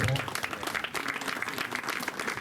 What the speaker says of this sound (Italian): Un applauso a Sandra Paddeo che saluta noi sempre.